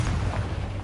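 A Confringo explosion spell detonates in the Hogwarts Legacy video game, a dense, sustained booming rumble lasting under a second with steady loudness and no speech.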